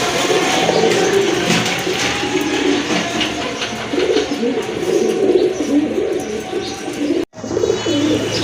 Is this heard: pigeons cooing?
yes